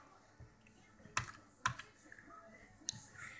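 A few sharp, sparse clicks of keys being struck on a computer keyboard, quiet and close, separated by pauses rather than a steady typing run.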